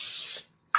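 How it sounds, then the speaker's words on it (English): Cooking spray hissing from an aerosol can into a paper loaf pan while preparing babka, a steady close spray burst followed by a short second spritz after a brief pause. "Spray."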